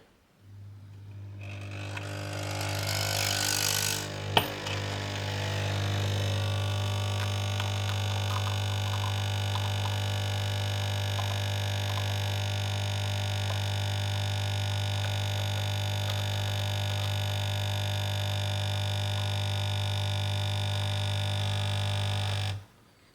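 A Nespresso Essenza Mini C30 brewing an espresso: a loud steady electric pump drone with strong hum starts abruptly, holds unbroken for about twenty seconds after a brief click, then cuts off.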